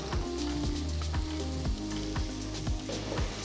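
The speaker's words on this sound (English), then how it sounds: "Next add 2 large onions thinly sliced." Sliced onions sizzle in hot oil with bay leaf, cinnamon, clove, cardamom and cumin seeds, a steady close frying hiss with repeated stirring scrapes and taps throughout, no voices.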